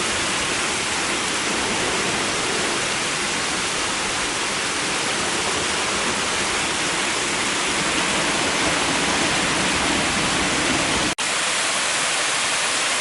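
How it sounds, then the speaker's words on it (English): A waterfall on the Otter hiking trail gives a loud, constant broadband roar that fills the whole span, with only a split-second dropout near the end. "A beautiful waterfall along the way."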